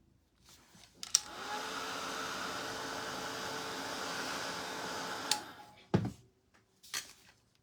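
A hair dryer blows steadily on paint drying on a sunflower door hanger, a close, even whoosh lasting about four seconds, followed by a few sharp knocks and clicks.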